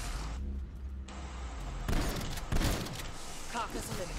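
A shotgun fires in Cold War Zombies, loud booming blasts repeated a few times amid other gunfire and game noise, with a voice speaking briefly.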